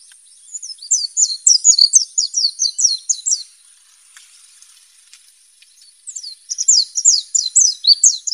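A wild white-eye (Zosterops) sings rapid bursts of high, sweet chirping notes, one run lasting a few seconds, a pause, then another similar run, clear and fairly close with a faint insect hiss behind.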